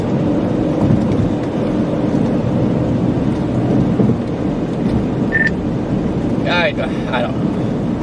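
Low, rolling rumble from a nearby thunderstorm runs steadily under the scene, loud and continuous, with a few short high chirps near the end and voices talking in the background.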